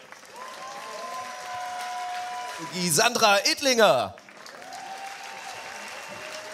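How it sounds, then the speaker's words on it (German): Crowd applause for players at a women's beach volleyball final, GBT Hamburg 2023, a steady spread of clapping and cheering from a large audience, with an announcer's voice cutting in midway over it. "Hamburg einen fetten Applaus für Shinoa Christ."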